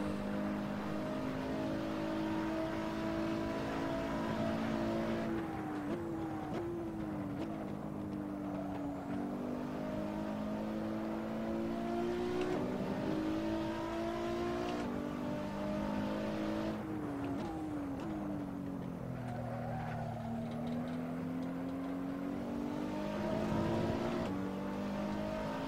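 Race car engine in Assetto Corsa screaming down a straight past 230 km/h, a loud, steady high-revving drone with repeated brief dips and climbs as gears shift, continuous throughout.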